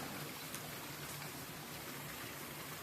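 Heavy rain pouring down during Diwali festival night, a steady, dense hiss of falling water on surfaces, continuous and fairly close, with no other sounds standing out.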